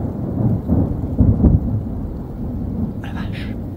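Low thunder rolls from a strong summer storm building overhead, loudest early then settling into a steady rumble mixed with rain noise, a short faint voice or crackle near the end.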